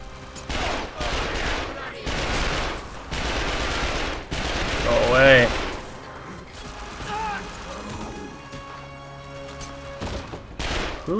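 Gunfire sounds in the video game The Darkness 2: heavy bursts of shots come in clustered bangs over the first half, then mechanical clanks and a quieter game ambience follow. Some voices can be heard faintly underneath.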